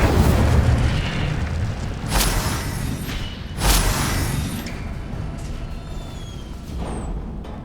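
The Incendio fire spell is cast in Hogwarts Legacy, a booming burst followed by a second dull blast and a rumbling, crackling tail in the game.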